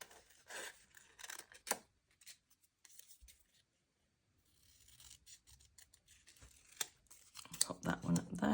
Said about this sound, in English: I'm going to cut this little corner piece out here.